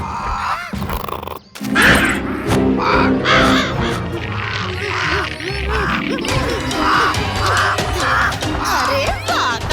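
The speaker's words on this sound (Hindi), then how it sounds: "हाजिर है काव काव राजा।" A cartoon crow caws over and over, nasal repeated calls set against busy animated background sounds and music.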